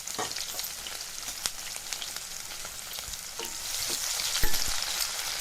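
Chopped green chillies and onions fry in a pan, giving a continuous crackling sizzle with scattered pops and occasional stirring scrapes that builds slightly louder toward the end.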